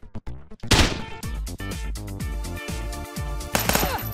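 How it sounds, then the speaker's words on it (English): In the video game Police Stories, a flashbang grenade goes off: a few sharp clicks lead into one loud bang, followed by a dense run of ringing, clattering impacts and stepped tones, with another burst near the end. "Send him a flashbang."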